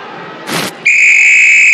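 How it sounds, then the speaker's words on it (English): A referee's whistle sounds in a PC classic soccer game replaying a 2014 World Cup match in Brazil: a brief rustling burst, then one loud, sustained shrill blast held steadily to the end. "Oh, we got a whistle."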